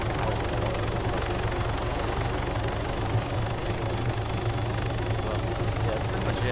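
A helicopter in the video game Arma 3 flies under the basic flight model, giving off a steady loud rotor and engine drone with low rhythmic thumping throughout.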